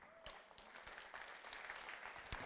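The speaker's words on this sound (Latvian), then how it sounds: "Paldies jums par aplausiem." Light audience applause at a talk on the power of imagination, faint and fairly steady for a couple of seconds, with a few sharper claps standing out.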